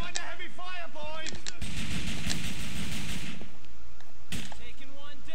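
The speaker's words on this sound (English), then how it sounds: "I'm under heavy fire, boys!" Gunfire in the video game Grand Theft Auto IV: a dense, loud burst of rapid shots and booming blasts fills the middle of the clip, with shouted voices before and after and another sharp shot near the end.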